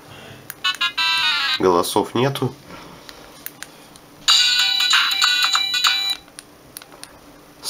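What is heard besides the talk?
stock ringtones of a Samsung X100 mobile phone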